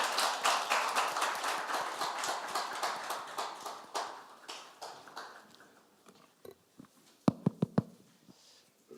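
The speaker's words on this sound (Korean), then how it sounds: "뜨거운 박수 부탁드리겠습니다" Audience applause welcomes South Chungcheong governor Yang Seung-jo at a civic lecture, a dense steady clapping that thins into a few scattered, louder claps near the end.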